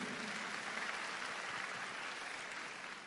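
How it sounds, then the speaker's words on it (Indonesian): Church congregation applauding during a sermon, a steady, fairly faint crowd of clapping hands that holds evenly and then tapers slightly at the end. "Berikan tepuk tangan yang meriah."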